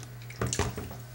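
Water splashes over an Xbox 360 hard drive in two short gushing bursts under a steady low hum, close and brief.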